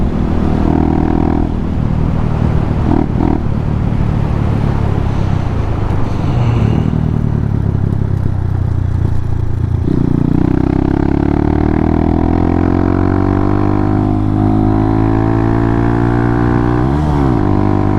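A Honda Hawk 250 motorcycle engine drones steadily at high revs in fifth gear under constant throttle, with a slight wavering in pitch and a brief stutter near the end, heard close over wind noise.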